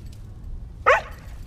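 A single sharp dog bark sounds close by during a winter outdoor walk, loud and brief against a steady low outdoor rumble, with no talking over it.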